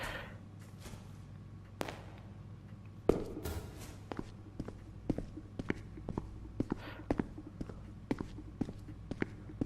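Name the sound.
footsteps of the player character in a horror video game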